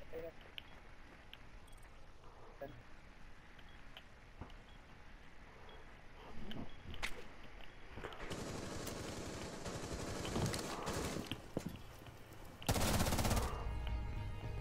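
Pistol shots in the shooter game Rainbow Six crack in scattered bursts that grow denser toward the end, with a loud volley near the close over game background noise.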